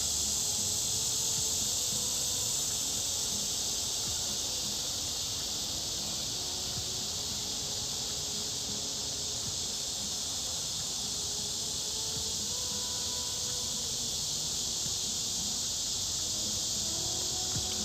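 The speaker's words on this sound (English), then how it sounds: "Y'all hear the cicadas?" Cicadas drone outdoors in a continuous, loud, steady high buzz that never breaks, with faint low background noise underneath.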